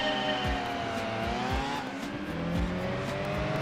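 A four-wheel-drive racing car engine in the video game Gran Turismo 2 roars and revs continuously, pitch rising and dropping through gear changes, loud and close throughout.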